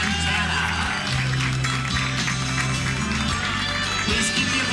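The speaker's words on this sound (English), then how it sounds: "Please keep the applause going for contestant number 11, Valdez" A pageant audience applauds a contestant with dense, steady clapping and crowd noise that holds loud and even throughout, with a low music tone underneath.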